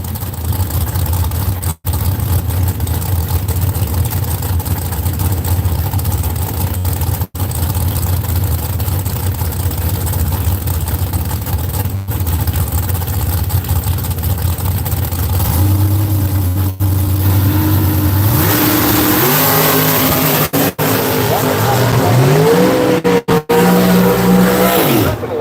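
Drag race cars at Seattle International Raceway, including a Buick Skylark, rumble loudly at idle, then launch with rising engine roars, gear changes and revs climbing in repeated sweeps, all close and dominant throughout.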